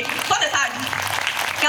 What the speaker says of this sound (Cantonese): 好多謝你嘅掌聲啊